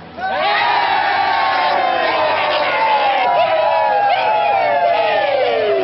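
A large crowd cheers and shouts continuously, loud and close, with overlapping voices and whoops rising throughout.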